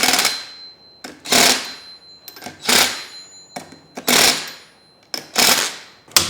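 Bolts being tightened on a Tesla rear drive unit, with about six loud, close bursts of ratcheting, clattering tool noise separated by brief pauses.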